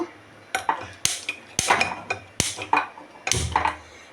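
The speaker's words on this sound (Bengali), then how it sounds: "আমি এখন কড়াই বসিয়েছি, গ্যাসটা জ্বালিয়ে নেব।" A metal wok being set onto a gas stove in a home kitchen: several sharp, close clanks and knocks at irregular intervals, separated by brief quiet gaps, with no voices.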